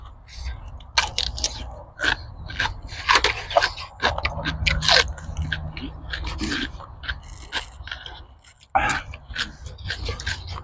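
People crunch and chew fresh cucumber in a backyard garden during a meal, with irregular bites and chewing close by, mixed with people talking over them.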